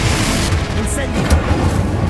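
Incendio fire spell bursting during Hogwarts Legacy combat: a low rumbling whoosh with a sharp flare near the middle, set within dense, steady battle noise.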